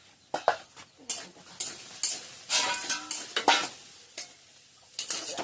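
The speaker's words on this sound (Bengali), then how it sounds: "দেখো এদিকে ভাজা হচ্ছে" Fish curry fries in a pan while being stirred, with repeated scraping and clattering strokes of a spoon against the metal over a soft, steady sizzle, close and busy.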